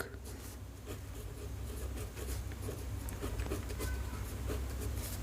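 Pen or pencil writing by hand on paper during a maths lesson, a steady soft scratching with small tapping strokes, close, over a low constant hum, no talk.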